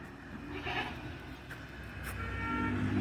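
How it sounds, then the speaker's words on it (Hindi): Goats and their kids bleat at a rural haveli farm where buffaloes are also kept, around feeding time. A few moderate calls stand out briefly over steady outdoor background noise, with no talking. "गोट भी हैं,"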